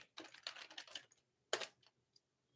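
Fingers type on a computer keyboard, giving a quick run of close, light key clicks, a brief pause, then a sharper burst of taps trailing into a few scattered presses, with no talking.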